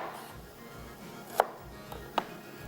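Two sharp knife strikes on a cutting board, spaced apart, come through as an onion is cut into cubes, over a quiet background hiss with no talking.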